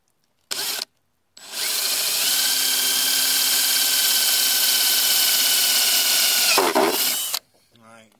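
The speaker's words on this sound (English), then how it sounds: "They're welding them, so I'm having to take a drill bit and drill these out." A power drill whines loudly and steadily for several seconds while boring out plastic welds on the evaporator housing of a 2010 Ford Mustang, after a brief spin-up burst, then cuts off.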